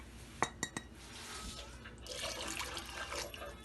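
A few clinks of a utensil against a pot, then four cups of water pour in for a chickpea pulao with a soft, steady splashing gurgle, fairly quiet and close.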